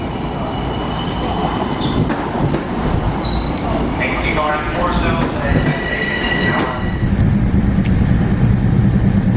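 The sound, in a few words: electric passenger train running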